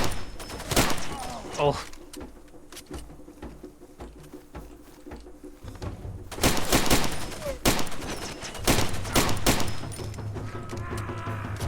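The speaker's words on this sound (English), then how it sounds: "you would have expected even wild firing from that short a distance to hit him" Gunfire in the video game Far Cry 2, with several bursts of shots crackling in clusters between quieter stretches, a voice exclaiming once in the middle of the shooting.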